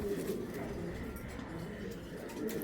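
Pigeons from a pedigree loft coo softly and repeatedly against a steady, noisy background, the low murmuring calls running throughout the short stretch without clear pauses.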